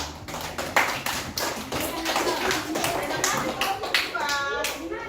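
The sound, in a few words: applause, clapping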